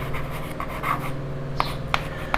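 Pen or chalk writing on a board during a math lesson, light scratchy strokes and a few sharp taps close by over a steady background hum.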